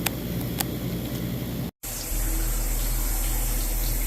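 Water hose spraying at the weep holes of a window, a loud continuous hiss and splash that cuts out for a moment, then resumes as a steadier, stronger rush.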